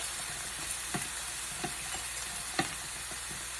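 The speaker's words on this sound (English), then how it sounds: "You just take this around and you just cut your tomatoes." A knife cuts through tomatoes beside a double burner grill, giving a few sharp, separate taps against a steady background hiss like sizzling.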